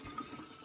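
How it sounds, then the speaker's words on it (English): Tap water pours into a stainless steel water bottle holding ginger juice and a pinch of salt, a brief, faint, steady rush of running water. "And then I'm just going to fill this sucker up with water."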